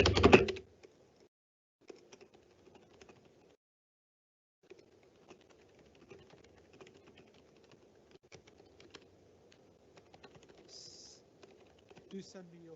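Soft, irregular keystrokes on a computer keyboard during a virtual public meeting, faint clicking in scattered bursts over a low hum, after a brief louder noise at the start.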